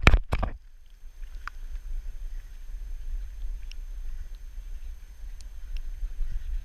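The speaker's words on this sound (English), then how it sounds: "that wind is a little bit much" Strong wind buffets the microphone outdoors as a steady, close, low roaring rumble, opening with a few sharp knocks and handling bumps.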